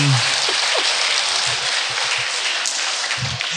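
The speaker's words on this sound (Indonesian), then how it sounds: "tepuk tangan untuk Romo Haryatmoko" A hall audience claps for Romo Haryatmoko after his public ethics talk, a dense, even wash of applause that carries on steadily, with a few low voices underneath.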